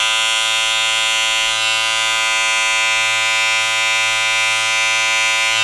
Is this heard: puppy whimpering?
no